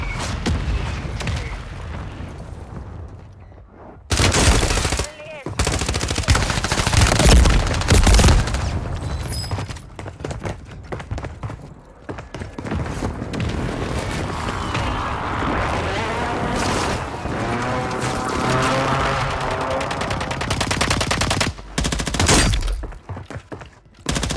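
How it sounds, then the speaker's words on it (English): Dense combat din from Call of Duty Warzone on Rebirth Island: booming mortar impacts, shattering debris and rattling gunfire overlap loudly and continuously, broken by a few short drops. "Mortar strike inbound."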